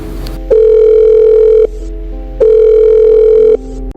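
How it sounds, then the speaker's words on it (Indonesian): A telephone line plays two long, loud ringback tones separated by a pause while a number is being called, steady and electronic, with no speech. "Tidak pakai lama Arya langsung telepon lah nomor itu."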